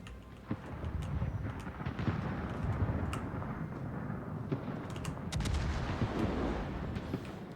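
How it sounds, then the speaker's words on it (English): Warship naval guns firing shells in a battle video game, with heavy booming shots going off repeatedly at irregular intervals over a constant rumbling battle din. "Now, shells start to go out into the fight over here."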